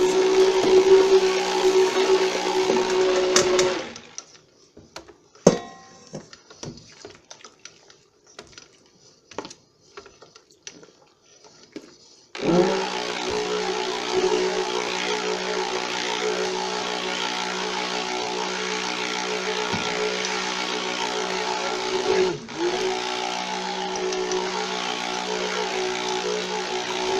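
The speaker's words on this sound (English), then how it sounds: "I kind of just blend this until it seems like it's all mixed together really well" A blender runs steadily while mixing body butter ingredients such as wax and powder, loud and continuous at the start, stopping for a stretch of quiet clatter, then starting up again and droning on to the end.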